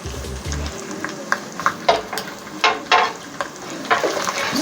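Whole spices (cinnamon, cloves, bay leaf, nutmeg, mace) and black pepper powder roast on low heat in a pot for handi chicken biryani. Soft sizzling runs under irregular bursts of scraping as they are stirred.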